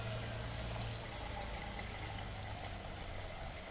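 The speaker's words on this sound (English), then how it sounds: "Fill it with some fresh water, as fresh as chlorine can be." Fresh tap water streams steadily into a small cooking pot, a continuous, fairly even rushing pour that holds for several seconds without talk.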